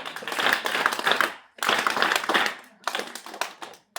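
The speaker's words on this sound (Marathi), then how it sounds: "त्यांचं सुद्धा आपण टाळ्या वाजून स्वागत करूया" Three bursts of clapping from an audience at a political party birthday event, each lasting a second or so, separated by short pauses.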